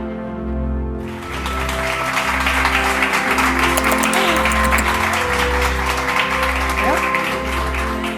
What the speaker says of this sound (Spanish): con este aplauso ya uno se siente con una energía renovada, estupenda